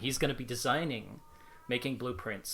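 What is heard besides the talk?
pet cat meowing in the background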